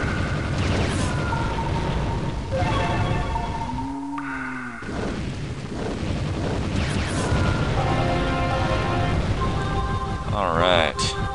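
Spell and meteor explosions from the video game Magic Carpet 2 boom and burst in a dense, continuous barrage, loud and layered with rumbling blasts and a warbling swell near the end.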